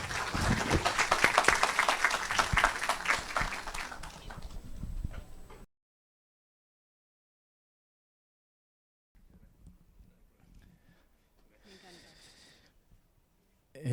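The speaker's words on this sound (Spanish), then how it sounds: "Agradecemos con un fuerte aplauso a la doctora Fiorella Álvarez." Listeners at a medical lecture clap for a doctor in a burst of applause lasting about five seconds, which then cuts to silence before faint rustling and low background noise return.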